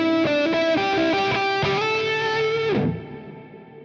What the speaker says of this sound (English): Let's add the reverb.